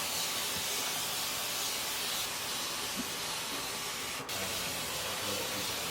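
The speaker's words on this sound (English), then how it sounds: "the first thing I like to do is spray some water" Water sprayed onto natural hair, a steady close hiss of misting that runs for several seconds, with a sharp burst near the end.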